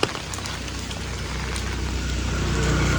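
Heavy monsoon rain pouring over a Konkan village, a dense, steady hiss that holds at an even level and swells slightly toward the end, with no voices over it.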